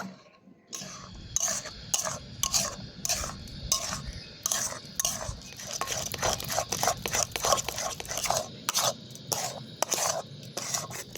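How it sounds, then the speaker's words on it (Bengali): A spoon scrapes repeatedly through thick semolina and milk dough in a pan over low heat, a steady rhythm of close, gritty strokes with no voices. "সুজিটাকে আমি ভালো করে মিশিয়ে নিয়েছি এবার আমি ধীরে ধীরে জাল দিয়ে একটা ডো তৈরি করে নেব"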